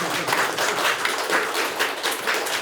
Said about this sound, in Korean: 이럴 때 박수 한 번씩 치던가 다세요